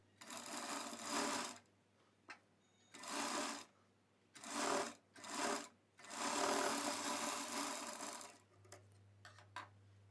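A sewing machine stitches a blouse in several close bursts of fast, whirring needle runs, the longest lasting about two seconds, with short quiet gaps and light clicks between them.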